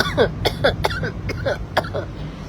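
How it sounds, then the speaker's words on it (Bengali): A string of short, harsh coughs, about half a dozen, coming in quick, uneven bursts close to the listener, with a faint hum underneath. "আমি কাশতেছি রে"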